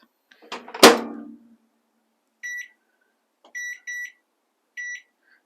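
A home microwave oven used to melt chocolate gives a sharp clunk of its door or button, then a series of short, clear electronic beeps in ones and twos, with silence between them.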